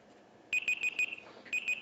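A kitchen timer goes off with rapid, bright electronic beeps in two quick bursts separated by a short pause, clear and close in a quiet kitchen.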